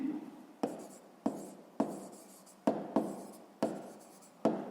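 A pen writing on paper while someone works through a sixth-grade math exercise: a series of about eight crisp, scratchy strokes at a steady, unhurried rhythm, close and quiet.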